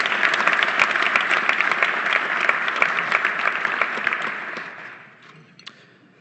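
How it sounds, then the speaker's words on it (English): A banquet audience at an Empire Club of Canada luncheon applauds the head table with sustained, full clapping that holds for about four seconds, then thins out and fades to a few scattered claps. "Ladies and gentlemen, a round of applause for your head table."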